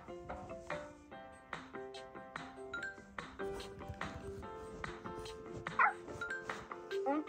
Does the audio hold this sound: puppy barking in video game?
yes